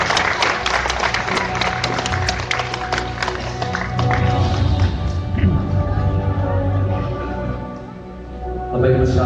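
Clapping from a gathered audience at a religious ceremony, busy and continuous at first and then fading, with music and talk running underneath.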